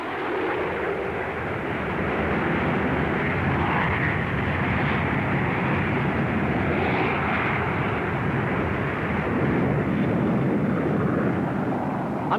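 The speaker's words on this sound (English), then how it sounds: "The world's most slender Delta, the Hanley Page 115, investigates low-speed handling characteristics of a wing design suitable for supersonic airliners of the future." Handley Page 115 slender delta research aircraft flying at low speed, a steady broad engine roar that holds loud and constant throughout with no voices.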